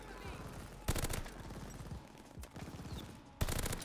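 Gunfire from Call of Duty Vanguard in ranked play, a buffed rifle with a 30-round magazine, bursts of rapid shots landing in several loud clusters over game noise with someone talking.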